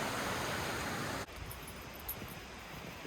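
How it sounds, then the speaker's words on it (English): A loud stream rushing down a snowy spring hillside, a steady broadband roar that fills the whole clip, turning a little quieter and thinner about a third of the way through. "The water's pretty loud here."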